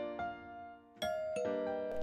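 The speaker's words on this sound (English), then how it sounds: "Oh, there goes the doorbell again." A doorbell rings with a clear tonal chime, several ringing strikes in quick succession that sustain and overlap, close and fairly loud.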